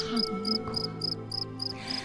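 A cricket chirps in steady repeated pulses, about seven evenly spaced trills, close and clear over a faint low background hum, with a soft voice faintly audible beneath.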